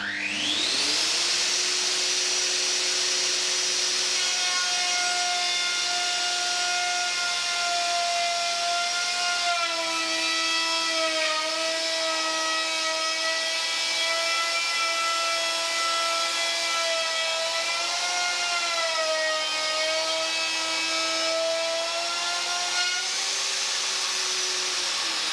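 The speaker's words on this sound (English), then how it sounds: "Adjust the turret stop to 15 millimeters and mill up to the turret stop. Start the machine." A Festool router with a routing aid mills a groove for an automatic door seal: a loud, steady high-pitched whine spins up at the start, holds with slight pitch shifts as it cuts, then winds down near the end.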